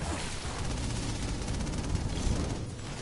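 Minigun fire from the video game Infamous Second Son pours out as a continuous dense roar of rapid shots, loud and unbroken for the whole three seconds.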